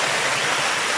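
Water rushes down a small mini falls on a mountain in Antipolo, a loud, dense, continuous splashing roar filling the whole moment with no pauses or voices.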